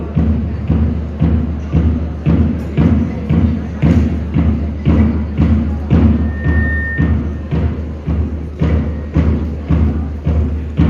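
Cadets' rifles thud in a regular, repeated rhythm during a rifle salute drill, each loud beat evenly spaced, with no talk over them.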